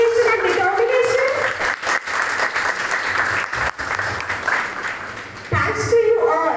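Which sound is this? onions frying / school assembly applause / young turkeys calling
school assembly applause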